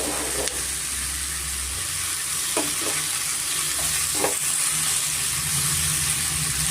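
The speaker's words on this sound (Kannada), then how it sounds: "ದೊಡ್ಡ ಸೈಜು ಎರಡು ಟೊಮೆಟೊ ಇದೆ ಆರು ಟೊಮೆಟೊ ಅದು ಸ್ವಲ್ಪ ಎಣ್ಣೆಯಲ್ಲಿ ಚೆನ್ನಾಗಿ ಫ್ರೈ ಮಾಡಬೇಕು ಚೆನ್ನಾಗಿ ಮಿಕ್ಸ್ ಮಾಡ್ಕೊಳ್ಬೇಕಾಗತ್ತೆ" Tomatoes frying in a little oil in a pan for butter paneer masala give off a steady, close sizzle, with a few soft scrapes of stirring partway through and no talking.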